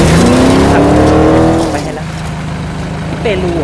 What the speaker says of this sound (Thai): อ้าวได้ขับรถอีกแล้ว